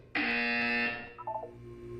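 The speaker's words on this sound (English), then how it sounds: "You will hear a buzzer." A loud electronic buzzer in the Portal 2 video game sounds in one sustained harsh tone for nearly a second, then fades with a few short stepped blips.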